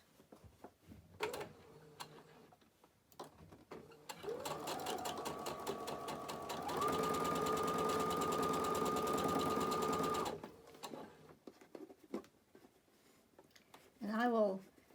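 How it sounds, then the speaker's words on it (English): A sewing machine stitches pieced quilt fabric up to a pin at the seam allowance, running in a steady, close mechanical whir for several seconds with a rising hum, framed by quieter handling noises before and after. "And I will sew right up to the pin, but I do not sew over the pin."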